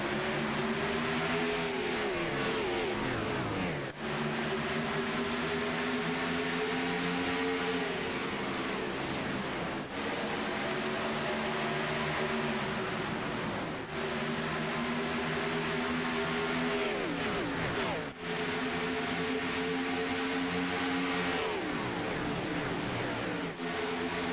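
Stock race cars roar around Texas Motor Speedway at the start of a Northwest Racing Cup Series round, a loud continuous engine drone with repeated rising revs and pass-by swells, no voices.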